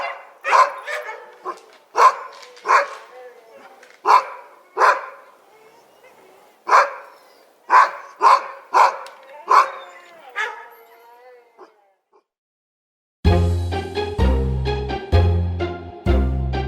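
Dogs barking in quick repeated bursts, loud and close, several sharp barks with short yips between them, then a pause before a different, denser burst of sound.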